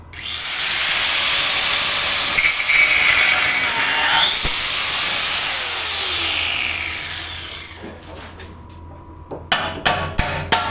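A power tool cuts through the exhaust pipe of a 2004-2008 Ford F150 to free a stuck muffler, giving a loud, sustained, high-pitched grinding whine for about eight seconds. It is followed by several sharp metallic knocks near the end.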